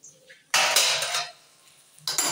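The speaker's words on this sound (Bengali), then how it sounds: "এবার আমি ঢাকাটা তুলে নিচ্ছি।" A metal lid is lifted off a cooking pot of jute leaves simmering with pea lentils. Brief quiet gives way to a sharp clattering clank, then a softer scrape and a second clink near the end.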